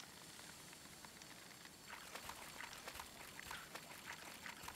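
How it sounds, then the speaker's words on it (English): A character wades through shallow water in the video game Coral Island, making soft, quiet splashes and trickling sloshes that start after a short lull and keep going in loose, uneven steps. "Theo's just messing up my fishing, walking in the water, making a load of noise."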